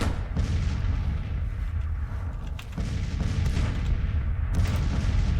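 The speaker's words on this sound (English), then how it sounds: "Because I really wanted to be able to get these guys firing on these guns." Civil War artillery guns firing in the video game Grand Tactician, a dense, continuous rumble of cannon booms and distant gunfire blending into a loud, sustained battle roar with no speech.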